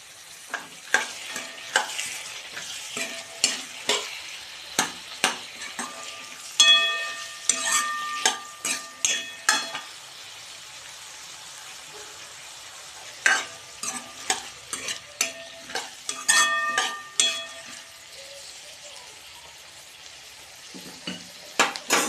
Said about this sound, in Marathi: यात आपण टमाटे टाकून घेऊ चिरलेले।